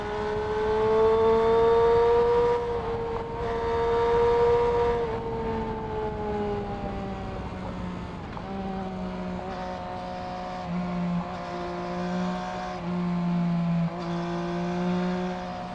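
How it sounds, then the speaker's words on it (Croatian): A car engine on a test drive pulls and accelerates in a smooth, even climb. Its droning tone rises, then dips briefly at a couple of points before climbing again, with no talking. "motor drži, ide i ubrzava linearno"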